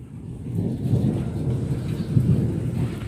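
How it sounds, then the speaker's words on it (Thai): Steady rain hisses while low thunder rumbles and rolls underneath during a storm at Tachileik, Shan State, continuous and fairly distant, with no voices. "ฝนตกอยู่นะคุณผู้ชม"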